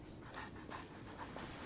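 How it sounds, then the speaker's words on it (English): Puppies in the Genshin Impact video game pant softly in quick repeated breaths over a steady, hissing game background, faint and close, with no talking. "Look at the puppies."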